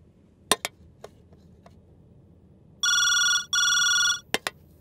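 A telephone rings with an incoming call during a comic phone-call scene in a Telugu film: two loud, steady electronic ring bursts back to back, with sharp clicks and taps just before and after.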